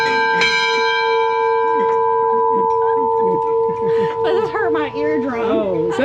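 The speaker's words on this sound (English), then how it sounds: "ring the ship's bell" A loud ship's bell aboard the World War II ship SS American Victory rings with a long sustained metallic tone, struck a few times, while people talk and laugh close by over the ringing.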